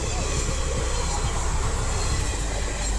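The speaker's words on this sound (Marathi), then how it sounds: "इकडनं रेल्वे गेलेली आहे." A train rumbles past on a railway line near Amalner, Jalgaon, a steady loud roar with the rhythmic clatter of wheels on track, heard up close without pauses.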